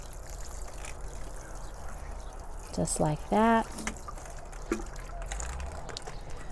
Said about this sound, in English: I'm going to water it in